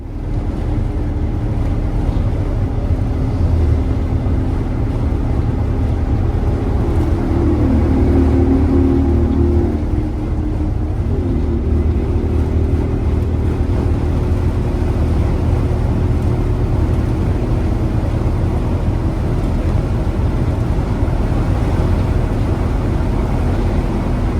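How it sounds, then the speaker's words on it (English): A nearly 80-year-old bus engine drones steadily at highway speed, with deep low rumble and constant road and wind noise throughout, loud and continuous. "listen to the sounds of this nearly 80-year-old bus flying down the highway, passing semis like nothing"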